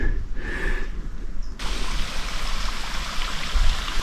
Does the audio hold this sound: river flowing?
yes